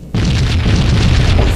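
A sudden loud boom from a trip mine in a multiplayer shooter, followed by a roaring, sustained blast and fire rumble.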